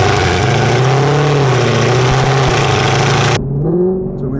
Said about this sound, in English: That downshift.